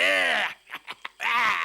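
A voice imitates a hungry, ferocious bear in a Viking cartoon, giving two long growling roars with short grunts between them, close and loud.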